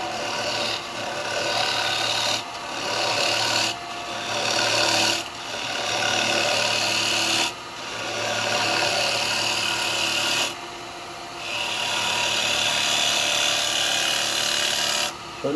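A gouge cuts wet eucalyptus spinning on a wood lathe, giving a loud, close rasping scrape in several long passes separated by brief pauses.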